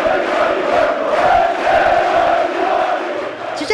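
Party lawmakers in a parliamentary chamber stand and applaud warmly, a loud dense crowd roar of clapping and cheering that fills the hall, with voices mixed in.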